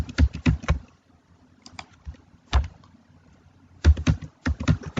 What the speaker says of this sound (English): let me type in paracetamol